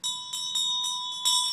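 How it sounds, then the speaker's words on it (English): Bell rung during a Buddhist Amitabha inscription ritual for the deceased, with a bright, sustained metallic ring struck again about five times in steady succession, each stroke renewing the shimmering tone. "Rice is tossed toward the name of the deceased several times, and the bell is rung"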